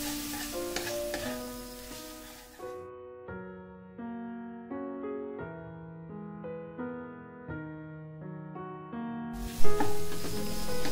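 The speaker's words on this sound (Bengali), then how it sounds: "এবারে আমি ম্যাগির সাথে সব মশলা খুব ভালোভাবে মিশিয়ে নিচ্ছি।" Boiled Maggi noodles are mixed with spices in a hot pan, giving soft sizzling and stirring scrapes at the start and again at the end, with a music passage playing between them.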